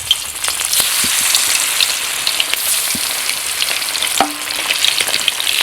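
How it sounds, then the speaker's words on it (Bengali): Silver carp pieces rubbed with salt and turmeric sizzling in hot oil in a wok, giving a steady close crackle and spatter with a few sharp pops and clinks. "দেখুন আমার তেলটা গরম হয়ে গেছে, এবার মাছগুলো ভাজা করার জন্য কড়ার মধ্যে দিয়ে দিচ্ছি।"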